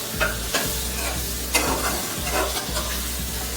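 Spices for chicken pulao sizzle in hot oil in a pot as a spoon stirs and scrapes them in a loose rhythm, close and steady with no voices.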